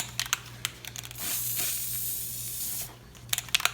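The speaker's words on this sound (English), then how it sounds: "Some nice even strokes, just like you normally would spray paint." An aerosol spray paint can sprays in one long hiss of about two seconds while painting a ceiling fan, framed by short clicky taps and rattles before and after.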